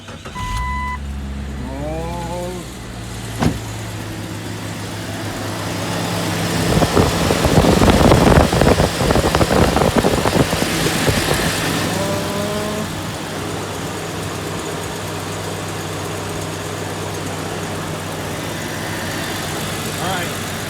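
A 1998 Jeep Cherokee XJ, just fitted with a new water pump, idles steadily while warming up. The close engine drone swells into a louder rumble midway, with a brief voice near the start.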